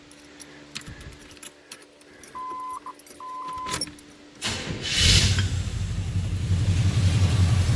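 A 1984 Pontiac Grand Prix engine cranks briefly and catches quickly, settling into a steady, rumbling idle close by, preceded by keys jangling and a couple of short electronic chimes in the quiet cabin.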